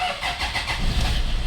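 A Toyota Innova engine cranks and catches in one quick start, settling into a loud, close, rough idle with a steady mechanical churn.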